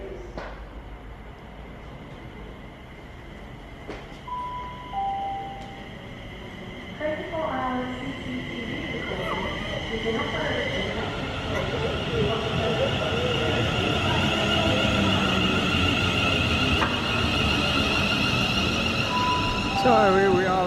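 A four-coach passenger train bound for Crewe, heard from inside as it runs, with a steady low rumble and rattle that grows louder and fuller over time, broken by brief tonal sounds and occasional faint voices.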